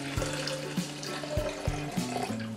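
About 10 ounces of water pour into a drink, a steady splashing stream near and alone for a couple of seconds.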